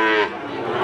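A single cow moos loudly and close by at a cattle market in Blora, one sustained bellow filling the short moment with no talk over it.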